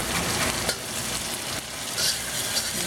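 Onion and garlic fry in a pan with a loud, continuous sizzle and occasional crackling pops, no talking.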